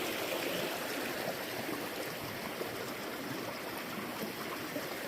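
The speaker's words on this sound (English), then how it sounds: "Here's creek crossing number 1." A mountain creek near Bottleneck Lake flows in a steady, dense rush of water, close and continuous, with no voices heard.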